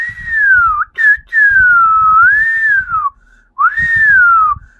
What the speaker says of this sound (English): let me do a whistle.